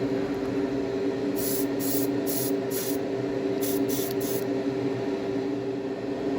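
A steady, close spray hiss lays a paint coat on a model railroad boxcar being weathered, continuous throughout with no talking.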